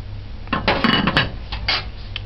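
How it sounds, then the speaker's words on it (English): A metal lid is set onto a pot of simmering Ital stew peas, giving a short burst of clanks and rattles at close range, followed by a few lighter taps. "Just cover it and allow it to simmer."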